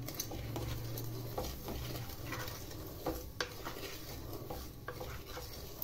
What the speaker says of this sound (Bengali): সুজিটা প্রথমে আমি শুকনো খোলায় একটু টেলে নেব।